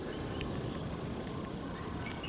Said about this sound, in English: You got the crickets, you got the koki frogs, and you got the birds.